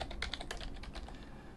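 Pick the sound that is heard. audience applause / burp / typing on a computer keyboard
typing on a computer keyboard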